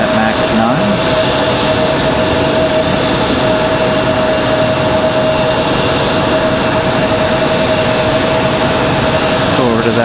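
An Icelandair Boeing 737 MAX 9 jet airliner from Reykjavik roars steadily at close range at Raleigh-Durham airport, a loud sustained engine drone with a high whine running throughout, while a voice talks over it.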